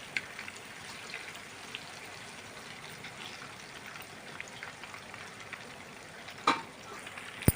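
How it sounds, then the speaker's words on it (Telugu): Fish frying in hot oil until golden brown, heard as a soft, fairly faint crackling sizzle with scattered small pops and a couple of sharper clicks near the end. "గోల్డెన్ బ్రౌన్ కలర్ వచ్చేంత వరకు ఫ్రై చేసుకోవాలండి."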